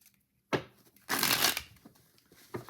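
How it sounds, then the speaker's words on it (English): Thick mermaid tarot card deck bridge-shuffled by hand, a short riffle burst followed by a longer, louder cascade of cards and a final faint flutter, close and alone. "It definitely is easier to do bridge shuffling than hand over hand."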